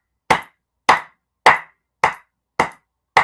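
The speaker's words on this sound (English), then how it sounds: "Let me clap for you." Six sharp, evenly spaced hand claps from a single person, each crisp and isolated with silence between them, close and fairly loud.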